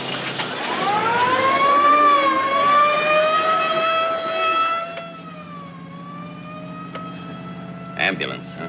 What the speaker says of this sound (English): Ambulance, huh?